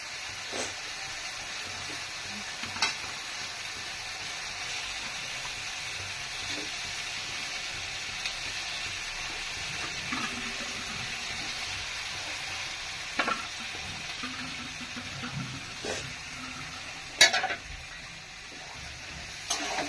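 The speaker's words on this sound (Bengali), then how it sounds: "একটু এগুলোকে মিক্স করে নিই, মশলাগুলোর সাথে মাংসগুলোকে মিশিয়ে নিই।" Chicken pieces stirred into a cooked spice paste in a hot pan, a steady broad sizzle with occasional scraping knocks of the spoon, no voices.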